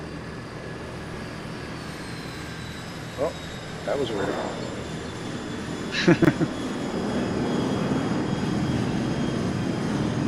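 Jet airliner engines roar with thrust reversers deployed after touchdown in a flight simulator game, a steady broadband rush that swells toward the end while people talk over it.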